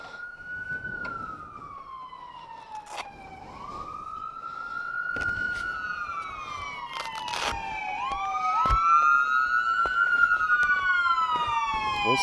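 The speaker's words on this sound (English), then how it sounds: "There's the ambulance and the police." Several ambulance and police sirens wail and sweep through rising and falling tones, overlapping as vehicles pass close by, growing louder toward the end.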